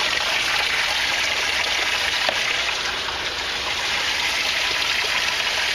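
Water pouring steadily into an aquaponics tank, a constant close splashing gush that holds the same level throughout with no voices.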